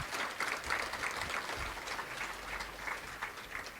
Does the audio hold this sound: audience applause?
yes